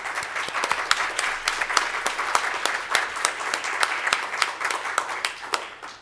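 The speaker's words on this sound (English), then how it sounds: "I will ask you an applause for them" Sustained applause from a symposium audience on tobacco control, many hands clapping steadily and fairly close for the full stretch with no voices over it.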